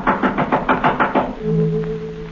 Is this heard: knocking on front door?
yes